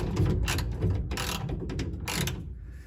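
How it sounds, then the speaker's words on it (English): A ratchet wrench works on the chassis of a 1959 Chevrolet Apache truck during a cab removal, clicking in short repeated bursts up close over a low background hum. "you don't want to sit here and watch him wrench on this"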